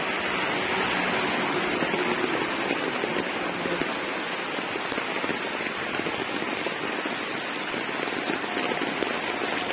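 Heavy rain pours down on an almost empty highway, with water gushing from a pipe. It makes a dense, steady roar of drops striking hard surfaces, even and continuous, with no voices.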